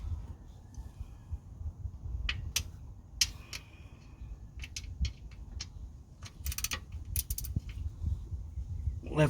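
A ratchet with an extension works at a bolt on a 1986 Foxbody Mustang with a swapped 4.6 engine, sharp intermittent clicks and metallic snaps scattered over a low rumbling background, close and irregular.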